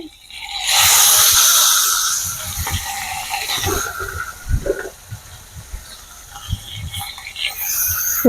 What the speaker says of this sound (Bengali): তেলটা গরম হয়ে গেছে তেলের মধ্যে আমি মাছগুলো দিয়ে দেবো